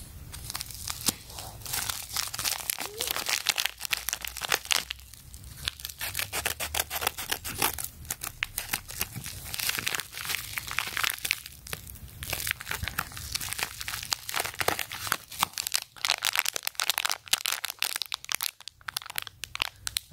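A packaged 12V GS100A LED strobe controller module being unwrapped, with continuous close, loud crinkling and tearing of plastic packaging throughout.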